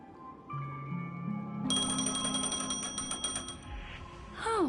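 A ringing telephone in the Honkai: Star Rail game gives rapid, bright electronic bell trills over layered synth tones and game music, repeating in quick bursts before a descending chime.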